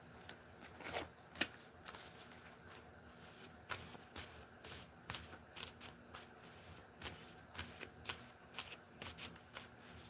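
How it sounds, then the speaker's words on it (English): Playing cards shuffled quietly again and again, soft riffling bursts repeating in an uneven rhythm, close and faint in a still room with no talk. "I shuffled, y'all heard me shuffle"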